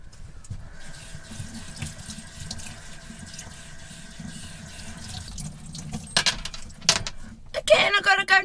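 Tap water runs into a small motorhome sink while items are rinsed, a steady close wash with clatter and splashing growing louder toward the end.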